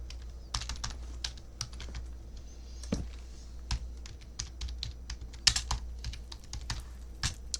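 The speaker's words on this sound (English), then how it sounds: "going freaking nuts with how fast I'm typing this" Fast typing on a computer keyboard: a rapid, uneven stream of crisp key clicks with brief pauses, close and fairly loud, with no voices.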